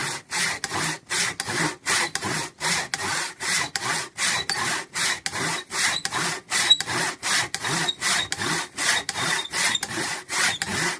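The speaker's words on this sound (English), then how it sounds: "if you ever have your saw bind, it gets all that sap and junk on it" Hand saw cutting through sappy wood, a steady rhythmic series of rasping back-and-forth strokes, close and moderately loud, with no talking.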